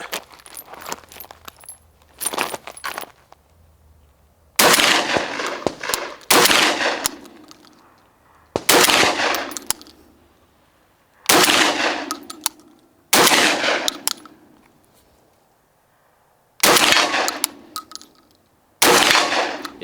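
A Benelli M4 shotgun, a USMC M1014 clone, fires about eight loud, close single shots with irregular pauses between them, and the first few shots are quieter.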